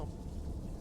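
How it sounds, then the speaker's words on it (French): A low, continuous rumble of distant thunder rolls steadily beneath a wash of rain, with no voices present. "Enfin, de bruit de tonnerre, d'explosion de tonnerre là."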